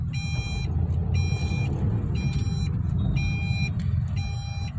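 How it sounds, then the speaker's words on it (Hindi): A Tata Tigor XZ+ car pulls over to the roadside, its engine and road noise a steady low rumble throughout while a repeating electronic beep, like an indicator or warning chime, sounds in regular bursts. "गाड़ी साइड में कर देता हूँ पहले"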